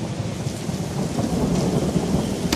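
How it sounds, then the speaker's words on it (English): Heavy rain pours steadily in a park during a storm in a Percy the Park Keeper cartoon, with a deep continuous rumble of thunder underneath, loud and enveloping with no voices. "It's raining."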